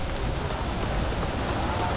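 Steady rain falling, a dense even hiss with a low rumble underneath, constant and fairly close throughout.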